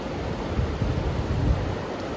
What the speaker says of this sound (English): This here is a serious river crossing.